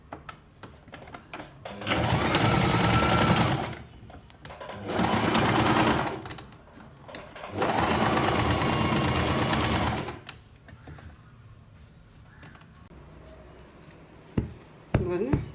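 A sewing machine stitches a pillow cover in three steady, loud runs of a few seconds each, with brief pauses and then quieter handling knocks at the end.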